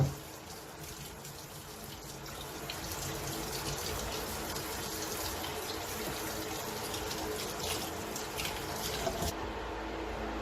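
Tap water runs steadily into a sink while kingfish is washed, a continuous broadband gush with faint clatter, close and fairly loud, stopping abruptly near the end; no talk.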